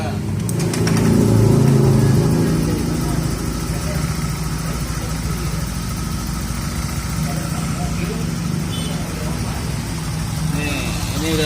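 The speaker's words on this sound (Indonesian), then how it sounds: "Sambil kita nyalakan mesinnya ya guys." A Honda Vario scooter engine with an overheating thermostat runs steadily at idle close by, a continuous low hum throughout while people talk over it.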